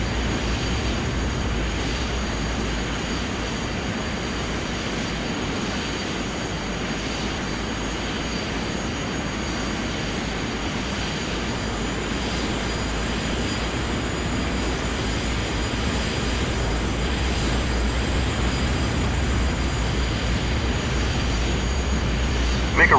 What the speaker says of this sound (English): Follow the 737 on the taxiway all the way to the runway